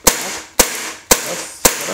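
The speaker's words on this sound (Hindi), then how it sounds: "इस साइड मैं थोड़ा ऊपर साइड फायर करूंगा." Umarex Beretta M9A1 CO2 air pistol firing BBs: four sharp, loud pops spaced about half a second apart, each with a short decaying tail, with no talking.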